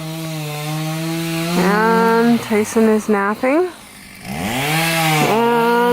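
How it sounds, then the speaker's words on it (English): A chainsaw cuts wood outdoors near birdhouses, its engine droning steadily with harmonic whine, briefly revving and stuttering mid-cut, then rising again; someone talks over it. "hubby is sawing again"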